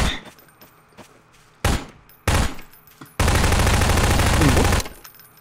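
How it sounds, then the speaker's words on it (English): Bursts of gunfire from a video game match, with a couple of short sharp shots followed by a sustained loud automatic burst lasting over a second, over quiet background game sounds. "Oh, someone's shooting."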